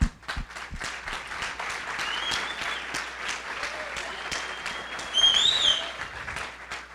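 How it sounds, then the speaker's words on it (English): Conference audience applause at a Flash Camp Brasil session on the RIM PlayBook, a steady crowd clapping heard fairly faint and distant, with whistles and cheers rising near the end. "a round of applause for all of them is due"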